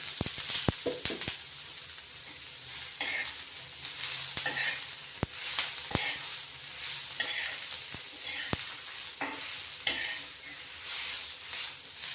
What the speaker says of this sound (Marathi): आता आपण थोडं तेल टाकतोय। तेल टाकल्याने पटकन भाजले जातात कांदे।